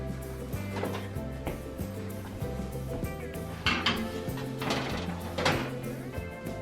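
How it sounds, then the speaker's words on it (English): A pan of cowboy cookies slides into a home oven set to 350 degrees Fahrenheit, with faint clattering of metal on the rack and a door thud heard over steady low background music. "Let's go ahead and pop them in the oven."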